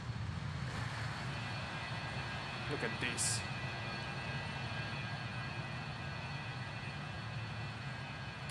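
Avro RJ70 airliner in Alitalia vintage livery climbing out of Rome in a flight simulator video game, a steady broad engine roar droning without pause under a man's brief spoken remark.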